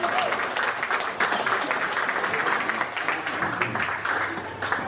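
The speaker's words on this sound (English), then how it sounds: "Everyone give him a big round of applause" An audience applauds Pastor Murray as he comes up at a church gathering, a dense, steady wash of clapping from a full room that holds evenly throughout, with some voices mixed in beneath it.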